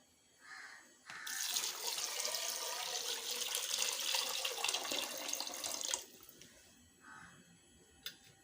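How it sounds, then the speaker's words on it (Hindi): Water pours steadily into a pressure cooker for about five seconds, a continuous splashing rush that starts and stops abruptly, with quiet handling noises around it. "और इसने विच मैं 4 गिलास पानी ने शामिल करसा।"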